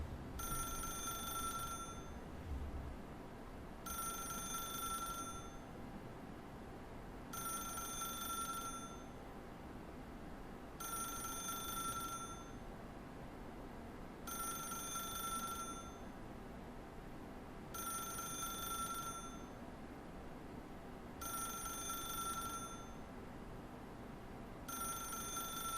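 A telephone rings in the video game The Stanley Parable, eight evenly spaced bursts of bright electronic trilling. Each lasts about a second and a half and repeats roughly every three and a half seconds, loud and close over a steady low room hum.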